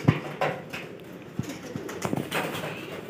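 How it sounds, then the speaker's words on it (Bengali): Pigeons at a pigeon fair coo in low, soft bursts close by, mixed with scattered clatter and busy crowd noise. "পায়রাদের মেলায় এসেছি এখানে আমরা"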